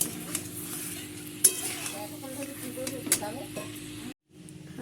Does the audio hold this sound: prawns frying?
yes